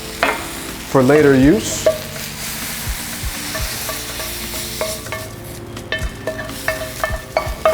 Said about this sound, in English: now that our spinach is wilted, another quick toss.